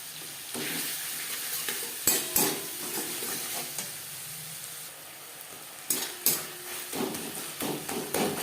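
Ginger and green chili paste sizzling in a pan for Rui fish curry with winter beans, with a constant frying hiss broken by sharp spatula clanks and stirring scrapes in short bursts.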